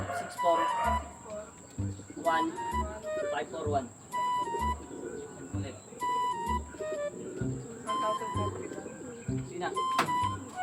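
Soft, repeated cooing from pigeons, low and rhythmic, with chirps and someone talking over it.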